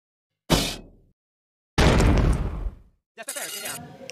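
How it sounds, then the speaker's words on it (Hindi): Cartoon sound effects played alone in three separate bursts: a short shattering crash, then a longer, loud smashing clatter that fades out, and finally a quick rattling swish. "cartoon sound effect"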